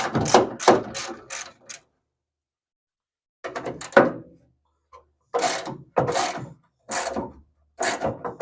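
Ratchet wrench loosening bolts on the rear quarter window of a Pontiac Firebird or Chevy Camaro, several close bursts of rapid clicking separated by short pauses.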